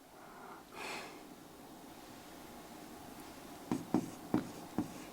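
Chalk or marker taps and scrapes on a classroom board during a food chain lesson, four quick, close strokes clustered at the end after a quiet stretch with a faint breath.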